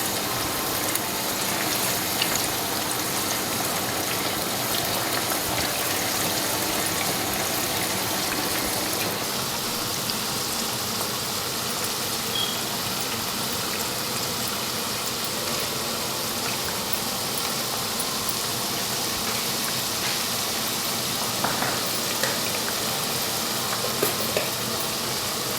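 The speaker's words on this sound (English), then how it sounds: "now add 40 grams of red and green chopped chillies and continue to stir." Chopped red and green chillies stirred in hot oil for a raw tomato, garlic and ginger pickle, giving a steady close sizzle and gushing fry noise with faint scraping, continuous throughout with no talking.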